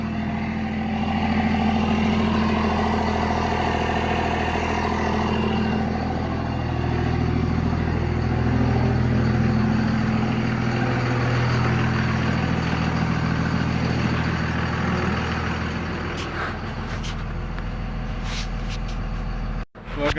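A truck engine idles steadily after a fuel filter replacement, a continuous low rumble held at even loudness for about twenty seconds before cutting off abruptly near the end.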